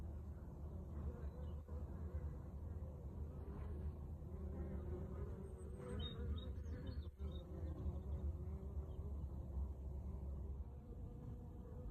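Honeybees buzzing around the hive entrance on a mild late-winter day, a steady close drone of many wings with occasional louder passes near the listener, while someone speaks quietly over it.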